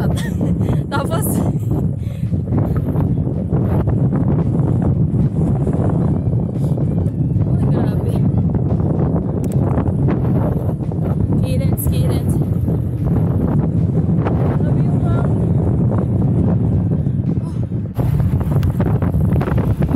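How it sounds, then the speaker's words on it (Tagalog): Strong headwind buffets the microphone of a cyclist riding in a desert park, a loud steady roar of wind rumble that runs continuously the whole time. "Grabe yung hangin. Ang lakas."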